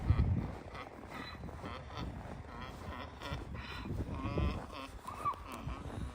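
A young donkey, a baby jenny, calls from a barn in a few bleating, braying bursts over wind and rustling, moderately close and spread through the clip.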